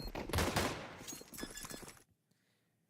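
Rapid gunfire bursts in a Counter-Strike esports match at PGL Cluj-Napoca, loud crackling volleys over about two seconds that cut off into near silence.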